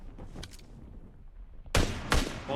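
Gunfire in the mobile battle-royale game PUBG Mobile: a short burst of shots, then a quiet gap, then two louder, sharp gunshot bursts close together near the end.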